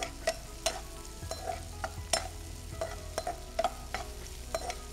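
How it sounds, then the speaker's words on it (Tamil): Onions sizzle steadily as they sauté in a pan while a spoon repeatedly scrapes and taps the metal, stirring at an uneven pace, close up. "வெங்காயம் நல்லா வதங்கணும்,"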